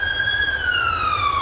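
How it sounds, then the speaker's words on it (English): Police car siren sweeping down in pitch as it passes, a loud continuous wail over low traffic rumble, heard alone. "And there's a police car going to the same place where the fire engine just went to."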